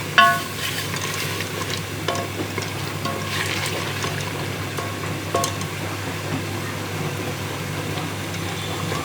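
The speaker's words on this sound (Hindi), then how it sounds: "गोश्त तकरीबन भून चुका।" Chicken meat frying in a pan for a phaliya chicken dish, a steady low sizzle with occasional stirring scrapes and clinks, continuous and close, with no talking.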